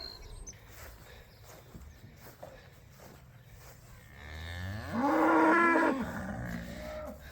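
Cattle on a farm lowing, with a single loud, drawn-out moo rising near the end over quiet barn background noise.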